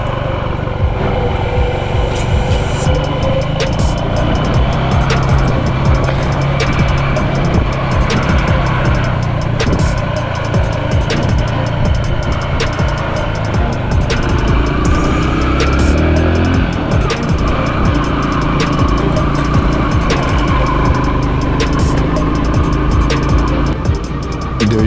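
A car drives steadily through city streets in Iquitos, passing from newly paved roads into a rougher neighborhood, its engine and road noise loud and continuous throughout with no talking.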